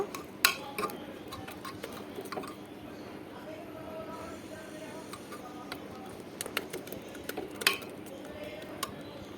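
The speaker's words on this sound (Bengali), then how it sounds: "এভাবে চামচ দিয়ে আমি একটু ঘুটে নেব।" Spoon stirring and mashing boiled dal in a cooking pot for Bengali sukto dal, giving scattered clinks and taps against the metal amid soft scraping, close by.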